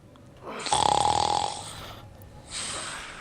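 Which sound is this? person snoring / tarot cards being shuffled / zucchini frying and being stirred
person snoring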